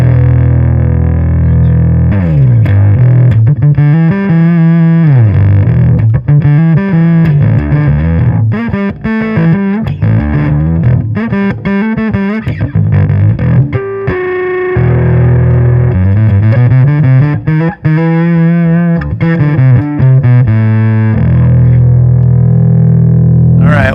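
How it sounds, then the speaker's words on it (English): Electric bass driven into tube overdrive through the input section of an Orange Terror Bass amp, gritty growling notes and slides played loud and close in a continuous busy line, with no voices. "So this is tube overdrive, what you're hearing."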